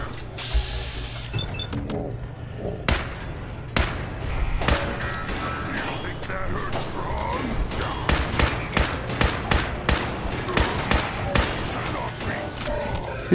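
Repeated gunfire in the post-apocalyptic video game Fallout 4, sharp shots cracking in irregular bursts over a steady mechanical hum, with a voice briefly talking.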